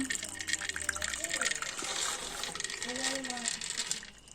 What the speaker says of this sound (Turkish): üzerine koyacağımız suyu çekirdeğin üzerine döktük ve temiz bir süzgeçle süzüyoruz